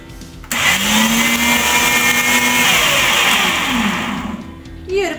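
A mixer grinder grinds coconut, cumin and garlic in a loud, steady electric whir that starts abruptly, holds for about four seconds, then winds down and stops, close and alone without talk.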